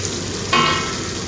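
Soaked chana dal hits a hot pan and is stirred, giving a sudden burst of close sizzling and crackling that settles into a steady frying hiss over about a second.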